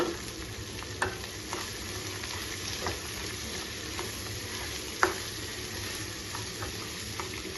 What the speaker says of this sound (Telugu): వెంటనే ఉల్లిపాయ ముక్కలు, కూడా వేసేసాను. ఇప్పుడు ఇవి ఫ్రై చేసుకున్నామండి